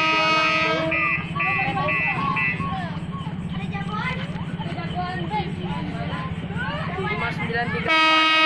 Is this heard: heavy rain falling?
no